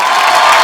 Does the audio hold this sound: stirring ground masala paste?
no